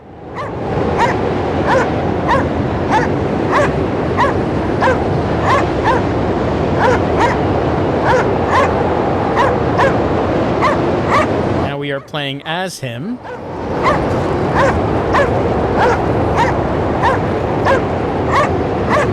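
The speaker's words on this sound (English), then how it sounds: "Dog is calling for us" A dog barks in the video game Cryostasis, a steady train of evenly spaced, loud yips running through a dense wash of ambient game sound, briefly cut by a short sweeping tone mid-way, with a voice talking over it.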